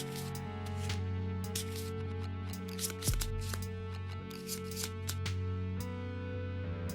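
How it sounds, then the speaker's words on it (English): Cards from the Kingdom Death: Monster board game are shuffled in quick, repeated riffling bursts close by, with a steady tonal hum underneath and one sharp thump partway through. "Hit locations are going to shuffle."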